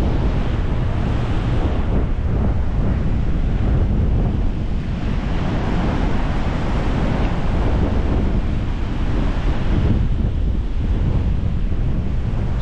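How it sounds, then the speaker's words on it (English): Strong winter wind at the Saltburn seaside roars steadily against the microphone, with the wash of surf rolling underneath; no voices, just continuous blustery noise throughout. "It's quite windy out here"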